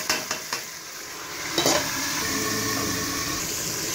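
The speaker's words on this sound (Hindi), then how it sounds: "अब हम इसमें इकट्ठा मसाला डाल देंगे" Spice masala hits hot oil and browned onion in a pressure cooker while making aloo baingan: a few sharp clacks of a spoon, then a loud, steady sizzle and stirring that continues to the end.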